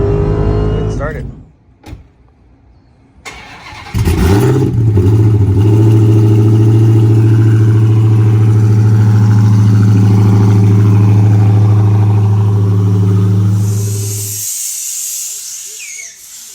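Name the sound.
Hellcat car engine starting and revving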